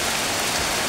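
Heavy rain pours at a campsite near a tent, a dense, loud, unbroken hiss with no voices.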